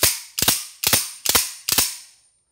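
Five sharp, evenly spaced metallic clacks of a pistol action cycled rapidly during a spring test, each snap loud and close with a short ring, alone with no talk.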